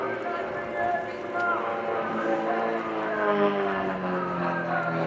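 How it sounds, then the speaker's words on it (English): Unlimited competition aerobatic propeller plane flying at an airshow, a droning engine whose pitch bends and shifts as it manoeuvres, heard at moderate distance under a commentator's voice. "part of the outstanding family of unlimited competition aerobatic aircraft"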